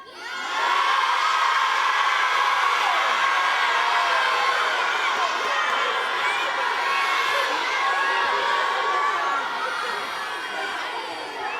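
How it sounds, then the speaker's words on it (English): A large live audience shouts at once, a dense, sustained roar of mixed voices yelling answers that rises quickly and holds steady, slowly easing toward the end. "Parts of the crowd are saying no, parts of the crowd are saying yes."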